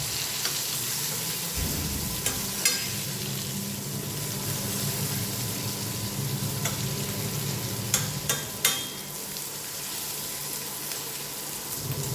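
Food fries in hot oil with a constant, dense sizzle, close up, broken by a few sharp crackles and clatters of a utensil against the pan.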